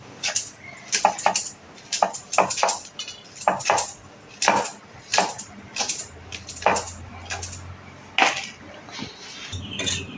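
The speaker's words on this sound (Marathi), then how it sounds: "आता या मिरच्या आपल्या चिरून झाल्या आहेत" Green chilies being chopped into small pieces on a board in a home kitchen, a steady series of sharp, close knife strikes in uneven bursts with faint clinks between them and no talking.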